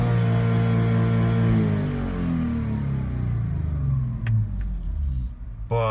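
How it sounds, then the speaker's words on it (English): Audi S4 B8 engine held at high revs for a launch, a loud steady roar with strong harmonics that drops in pitch partway through, then rises again with a few sharp clicks near the end. "floor the gas pedal to the point where you want to launch the car"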